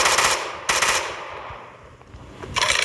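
Bursts of gunfire from firearms in a Minecraft gun mod (TaCZ), with three loud rapid volleys separated by short pauses and fading tails between them, and no voices.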